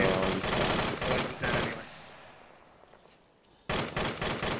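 Arma 3 firefight: loud sustained automatic gunfire in rapid bursts, close by, breaking off into a fading echo and near-silence before another burst erupts abruptly.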